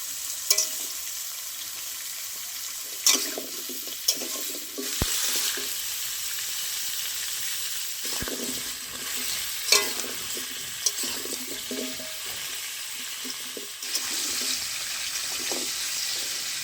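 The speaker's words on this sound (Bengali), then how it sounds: "তাই বিনা নুন দিয়েই আমি অল্প করে ভেজে নেব।" Washed, drained pumpkin pieces fry without salt in a pan, a steady soft sizzle with scattered sharp clicks and scrapes of a spatula stirring throughout.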